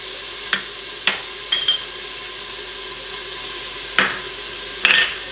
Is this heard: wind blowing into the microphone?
no